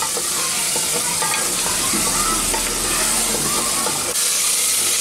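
Spiced masala paste with potatoes and salt sautéing in an open pressure cooker for Bengali rohu fish curry, a loud, dense, unbroken sizzle and hiss with stirring scrapes running throughout, very close.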